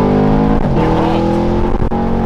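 A supercharged car with a Whipple supercharger accelerates hard on a full pull, a loud, close engine roar climbing in pitch and then dropping briefly at a gear change before pulling again, with a voice faintly underneath.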